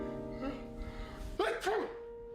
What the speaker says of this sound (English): all I did was sneeze